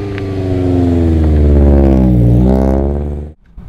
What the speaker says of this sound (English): Jakub, is this what a Miata is supposed to sound like?